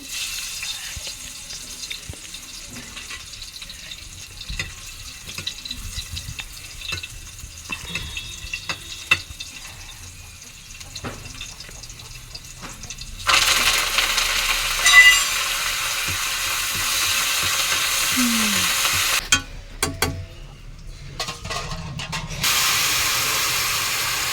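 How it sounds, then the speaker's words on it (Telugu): Spices for a tempering crackle and fry in hot oil for a raw mango rasam, quiet at first, then a louder bursting sizzle when added, with faint stirring, no voices. "ఇప్పుడు చారు తాలింపు పెడతాను"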